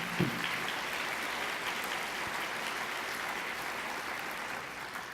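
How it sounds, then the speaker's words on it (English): A large crowd of over 1,400 guests applauds in a banquet hall at a benefit dinner, a dense sustained wash of clapping heard from a distance, steady and even with no speech. "Give yourself a round of applause."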